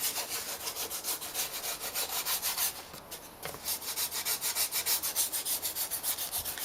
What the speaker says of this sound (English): You just sand it, round it off, and leading edge there.